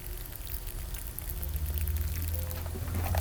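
Water pours steadily onto seed starting mix in a planting container, a continuous close splashing gurgle that builds and grows slightly louder toward the end, with no voices.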